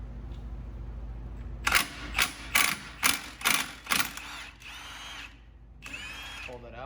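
A power tool running in reverse backs a clutch bolt out of a snowmobile, giving six short, sharp whirring bursts in quick succession, followed by a couple of softer mechanical rattles nearby.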